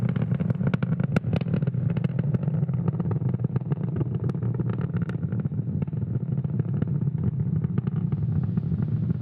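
SpaceX Falcon 9 rocket engines, throttled down near max Q as the supersonic rocket climbs during the SES O3b mPOWER satellite launch, give a loud, steady, rumbling roar that continues unbroken throughout.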